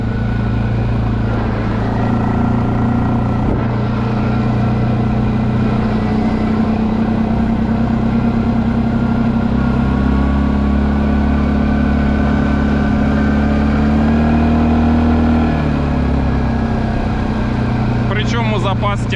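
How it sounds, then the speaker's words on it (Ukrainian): A Linhai 550 ATV engine pulls hard while towing a Jeep Cherokee of nearly two tons: a loud, steady droning roar that climbs slightly in pitch as it accelerates, then eases off near the end. "я натискаю на газ і квадроцикл прискорюється"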